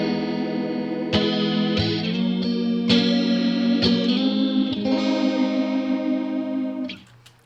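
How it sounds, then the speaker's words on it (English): Guitar played through a modulation effect in Helix Native software while its range knob is adjusted, giving sustained strummed chords with a swirling chorus-like shimmer. Several chord changes ring out loudly before the sound fades away at the end. "Spread kind of controls how drastic the whooshy type sound is. Let me mess around with this range knob."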